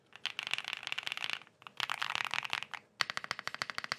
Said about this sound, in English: this is the keyboard sound that I enjoy the most